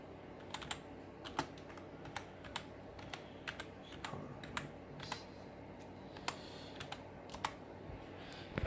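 Rapid clicking keystrokes on a computer keyboard for a Dell Inspiron 3840 desktop, as a folder name is typed, quiet and close, in uneven bursts with short pauses.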